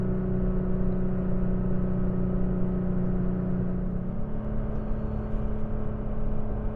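A Toyota Tacoma engine pulling a trailer uphill toward a campsite, a loud, steady droning roar of the engine under load with a sustained tonal whine that drops in pitch slightly partway through, heard from inside the cab without talk.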